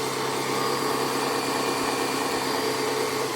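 A Braun MultiQuick 5 Vario hand blender running steadily at constant speed, a close, even motor whine with a bright high hum and no change in pitch.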